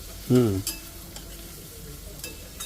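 Masala peanuts being stirred into sabudana khichdi in a pan, a soft scraping churn against a faint background sizzle, with a brief musical tone near the start.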